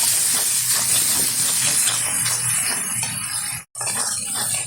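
Chicken and spices are sautéed in a hot pan for a Bengali chicken kosha, giving a loud, continuous sizzling hiss close by with a brief cut near the end.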